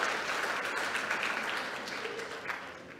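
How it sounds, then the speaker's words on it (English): A congress audience at the 23rd AMESA Annual Congress applauds the sponsors, soft, continuous clapping from a room of people that gradually fades as it goes on. "So give them a round of applause."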